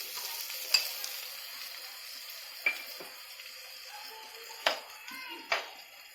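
Green beans and small-cut capsicum sizzling in a pan for a spicy sizzler dish, a faint, even hiss punctuated by four sharp taps of a utensil against the cookware.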